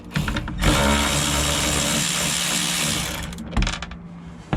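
Power tool removing bolts on a Jeep JK during installation of an overland storage shelf, whirring in one loud sustained run of about three seconds with short bursts before and after.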